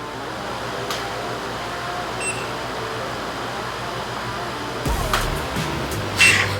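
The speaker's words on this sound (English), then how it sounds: "then it just starts engraving on its own" An engraving machine cuts into a wooden piece with a steady, even mechanical hum that shifts to a brighter, rougher whir near the end; no one speaks.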